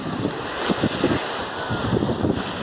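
Sea waves break on a beach near a sanatorium with a steady, rough wash of surf and strong wind buffeting the microphone.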